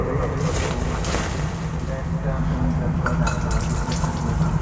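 Tap water runs steadily while dates are washed at home, a continuous rushing wash with a faint hum beneath it throughout.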